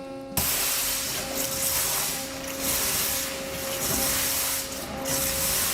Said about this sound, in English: Water only coming on now.